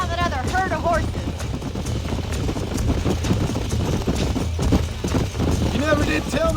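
Horse hooves clip-clop at a steady rhythm in the Red Dead Redemption video game, heard alongside ambient game sounds and some tonal calls, moderately loud throughout.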